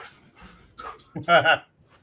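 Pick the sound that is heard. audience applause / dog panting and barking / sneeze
dog panting and barking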